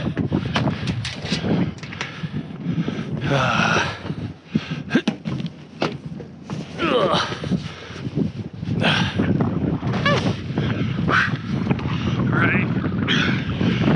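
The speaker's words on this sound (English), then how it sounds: "as you guys can probably hear, there's the wind. It picks up and it lets down." Gusty wind blows outdoors around a truck being tarped, rising and easing in a loud, continuous roar that buffets the microphone, with a voice talking over it.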